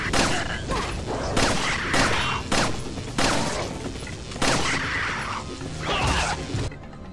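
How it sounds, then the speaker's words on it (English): Gunfire crackles in Resident Evil 4 as loud, dense bursts of shots break out in repeated volleys, each clustered barrage separated by brief lulls, close and harsh throughout. "I hear somebody like firing, but I don't see anybody."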